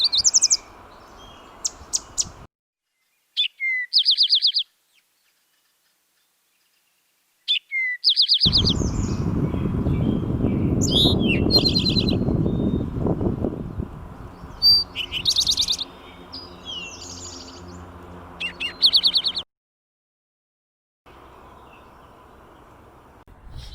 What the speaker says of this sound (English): definitely some birds down here